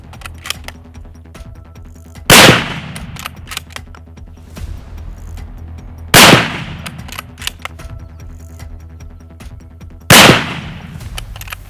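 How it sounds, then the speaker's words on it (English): Three loud, sharp gunshots fired at targets on a shooting course during a professional hunter training course, spaced roughly four seconds apart, each with a short ringing decay over a faint steady background. "continue shooting until you are finished with your 3 bullets"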